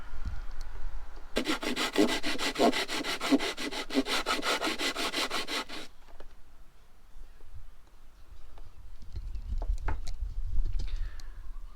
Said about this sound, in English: grab a piece of sandpaper, tape it to something flat, like the ground, and I'm gonna try to sand it on the ground.